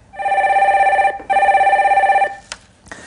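A telephone rings loudly and close up during a live call-in broadcast, two long electronic trilling bursts with a short gap between them, followed by a click as the call connects.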